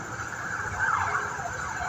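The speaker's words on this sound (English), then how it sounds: "There's sirens in the background" A distant siren wails faintly behind low street and room noise, its tone rising and falling briefly.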